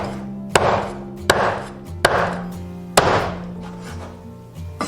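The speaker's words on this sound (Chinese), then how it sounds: "再把骨头斩成小段" A cleaver chopping eel bones into short pieces on a board, four sharp heavy whacks spaced under a second apart, close and loud with a ringing tail after each.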